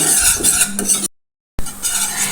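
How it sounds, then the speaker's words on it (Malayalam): Maida flour stirred into melted butter in a pan, a close scraping and swishing of a utensil against the metal over a soft sizzle, broken by a brief silent gap before the stirring resumes. "നല്ലോണം മിക്സ് ചെയ്തെടുക്കാം ഒരു രണ്ട് മിനിറ്റ് നമുക്ക് ഒന്നിങ്ങനെ മിക്സ് ചെയ്തെടുക്കാം"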